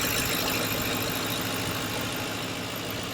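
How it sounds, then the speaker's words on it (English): A high-mileage 2005 Ford Crown Victoria P-71 with a 4.6 2V V8 and a slightly wobbly pulley idles smoothly, a steady close rumble with no talking. "it's pretty smooth idle."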